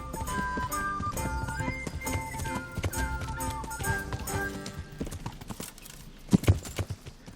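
Horse hooves clip-clop at a steady riding pace in Kingdom Come: Deliverance, set against soft game music, with a couple of louder thuds near the end.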